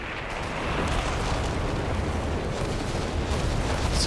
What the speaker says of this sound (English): Incendiary barrage coming through. Incendiary bombing, rather.